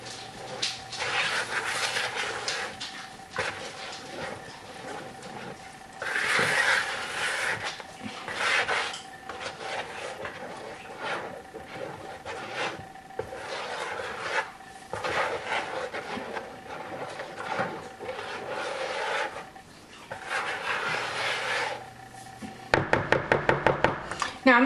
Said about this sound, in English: Give all this a stir.